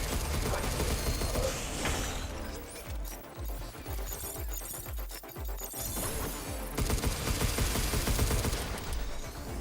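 Small gun firing in the video game Space Dad Simulator, with rapid repeated shots and clattering mechanical noise over a dense, continuous game soundscape, loud throughout.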